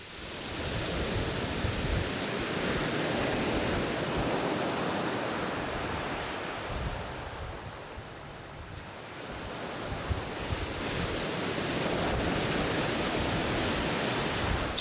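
Rough sea surges and washes against a small listing fishing boat in a heavy, broad roar that swells, eases briefly, then builds again, with wind buffeting close by.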